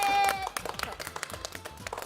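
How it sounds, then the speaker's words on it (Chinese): Studio audience clapping on a Chinese cooking talk show, a steady patter of hands for about half a second before a voice and a clear tonal sound cut in over it. "来，掌声给他。"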